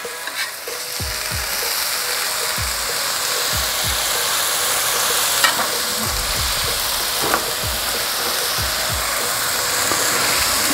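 Onion burgers sizzle hard on a Halo Elite griddle, a loud continuous frying hiss with repeated sharp scrapes and clanks of a spatula pressing and flipping the patties.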